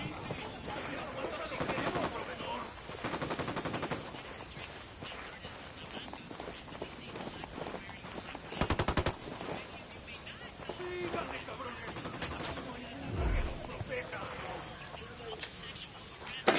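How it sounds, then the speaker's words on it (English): Video game firefight played on a PS4, with bursts of automatic gunfire and running footsteps at moderate level. Players talk over the action. "Opening fire."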